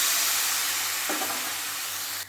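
Water poured into a pan of rice fried loose and dry for jackfruit and potato pulao, giving a steady hiss and sizzle with a brief louder burst partway through, close and without talk.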